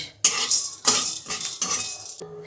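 Whole cumin, coriander seeds and black peppercorns are stirred dry in a pan, with several sharp metallic scrapes and clinks of a spoon against the metal and a faint rattle of seeds, close and loud.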